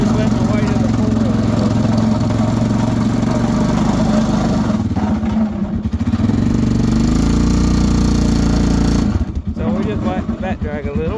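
An ATV fitted with a snow plow blade runs with a steady, loud mid-pitched engine drone, revving and shifting as it backdrags and pushes snow in 2025 winter weather, with someone talking over the engine noise.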